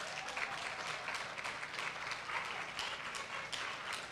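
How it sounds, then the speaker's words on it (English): An audience gives a round of applause for James at a family school reveal event, a dense, steady wash of many hands clapping throughout, fairly faint and distant, with no clear talk over it. "Again, big round of applause to James, the mastermind."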